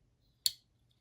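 A Valence Nocturne folding knife snaps its blade into place: one crisp, sharp click, brief and close, in an otherwise quiet moment.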